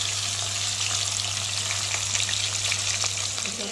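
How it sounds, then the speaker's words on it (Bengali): Fish roe sizzles in hot oil in a pan, a continuous close frying crackle with fine spitting pops over a low steady hum, no voices. "আর ডিমটা সাইডে একটু ভেজে নেবো"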